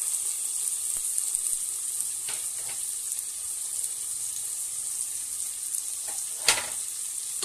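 Tomato and curry leaves sizzle in a pan with a steady, bright frying hiss. Occasional soft stirring clatters and one sharper knock near the end come through, all fairly close and without talk.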